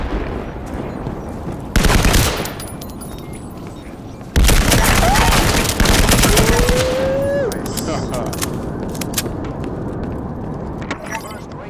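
Gunfire in the tactical shooter video game Firewall Zero Hour: two loud bursts of rapid shots, a short one followed by a longer volley, with quieter game sounds in between.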